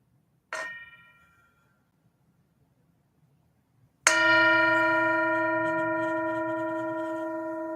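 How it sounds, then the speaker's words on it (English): A meditation bell struck twice during a mindful Bible study, first a short soft tap, then a loud, clear strike whose bright ringing tone sustains and slowly fades, alone without talk. "I'll invite the bell to sound here before I show this."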